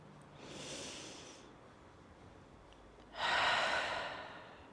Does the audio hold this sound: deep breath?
yes